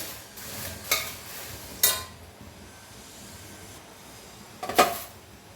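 Dry red chillies and gongura leaves roasting in a dry pan, with three distinct scraping strokes of a spatula against the metal over a faint, steady background hiss; no one speaks.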